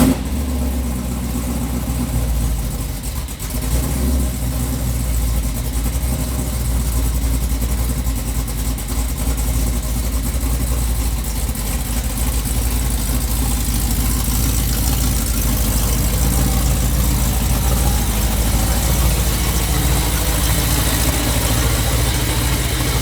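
A 1984 Dodge Ram truck engine running close by, a loud, steady rumble that holds evenly for over twenty seconds with slight shifts as the truck is eased out into the sun.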